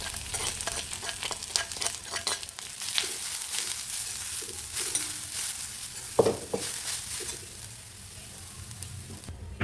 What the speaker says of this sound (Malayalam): ഈ ചെറിയ ഉള്ളി, കുറച്ച് വെളുത്തുള്ളി ഇവയിട്ട് അതിലേക്ക് നാളികേരം കൂടിയിട്ട് ഇളക്കി വറുക്കാം.